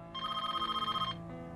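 A telephone rings once with a bright electronic trill, loud and close, then cuts off into a low background hum just before an answering machine message would begin.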